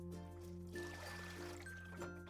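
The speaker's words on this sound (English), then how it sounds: "Transfer the purple cabbage into a large salad spinner and rinse with cold water." Cold water runs over sliced purple cabbage in a large salad spinner, a faint steady pouring and trickling with light tinkles, over a constant low hum with no talking.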